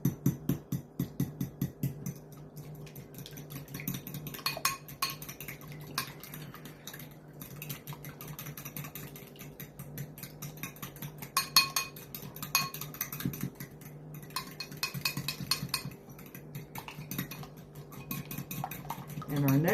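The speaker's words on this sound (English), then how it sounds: "I'm going to go ahead and beat my eggs now" Eggs beaten in a bowl for banana nut chocolate chip bread, a fork or whisk clinking rapidly and steadily against the bowl in quick rhythmic strokes, close and continuous.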